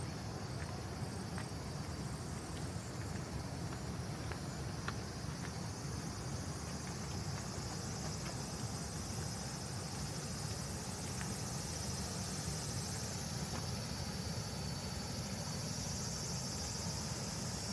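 Cicadas drone steadily beside the Sagami River, swollen by typhoon rain, a continuous high buzzing insect chorus over a low rushing wash of water, with no voices.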